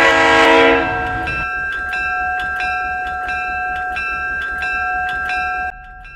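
Missouri-Kansas-Texas GP7 diesel locomotive hauling composite two-bay grain hoppers and empty coal cars, with a steady rolling rumble, a sustained horn-like tone and regular clanking beats, loud and close throughout.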